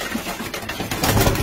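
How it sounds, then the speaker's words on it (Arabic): Domestic pigeons in a loft make soft, low cooing calls over a busy background of rustling and fluttering. The birds sound close, and the activity grows louder toward the end. "الحمام الحمام اللي كيخلع ما شاء الله"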